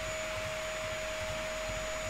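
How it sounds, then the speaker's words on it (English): A household vacuum cleaner runs steadily at close range, a continuous broadband whoosh with a sustained motor whine and no breaks. "I'm gonna go vacuum the house."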